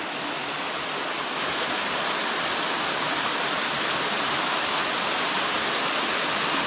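A small cascade on Purragulli Creek pours in a steep creek bowl, producing a loud, continuous broadband rush of falling water, close and unbroken.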